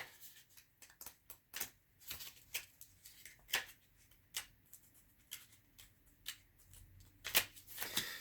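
Tarot cards being handled and shuffled on a table, a close series of quiet, crisp flicks and slides coming in irregular bursts.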